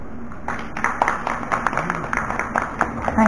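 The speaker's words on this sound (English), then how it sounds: "Everybody, a round of applause." Audience applause after a memorandum signing between a Sri Lankan university and an Indian space education group, a moderate indoor round of clapping with distinct individual claps, building slightly toward the end.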